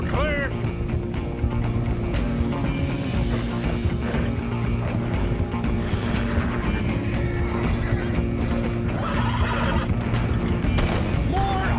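Horses in Red Dead Redemption 2 give a whinny near the start, layered over a steady game soundtrack with music and other effects; the neighing is brief and partly masked rather than standing alone.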